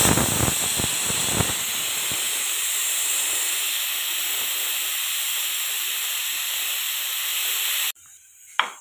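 A pressure cooker hisses with a steady, loud jet of escaping steam after biryani finishes cooking in a village kitchen in Assam. The release holds at one level for most of the time, then cuts off abruptly near the end.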